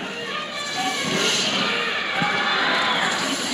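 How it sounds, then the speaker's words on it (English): Crowd noise at the EVO 2010 fighting game tournament, a dense steady murmur of spectators with scattered shouts and heckling, loud and continuous throughout. "There's heckling from the crowd."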